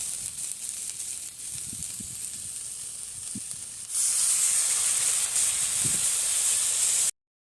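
Water poured into spice paste frying in a pan for a soybean dish with goat fat, a steady sizzle that suddenly swells into a loud, bright hissing burst midway, then cuts off.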